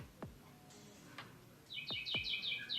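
Small birds chirp and tweet outdoors, quiet and at a distance, in a few short repeated calls that bunch together toward the end, with faint low thuds underneath.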